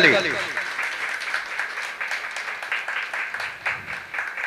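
Applause for an honoree at a jatra felicitation ceremony, a steady wash of clapping from a gathered audience that carries through the whole stretch at moderate loudness, with a voice briefly audible at the start.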